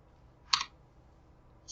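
A single sharp key press on a computer keyboard while using Onshape CAD software, close and crisp in a quiet room, with the start of another click just at the end.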